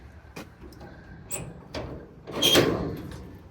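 A compartment door on a crane service truck body opens with a few light clicks and knocks, then a louder metallic latch clunk and slide, close by in a quiet space.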